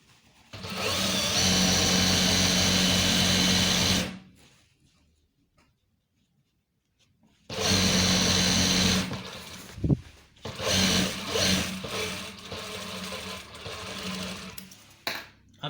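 A sewing machine stitches trousers for a police uniform in bursts: a loud, steady whirring run of about four seconds, a pause of silence, then another sustained run broken by brief stops and restarts.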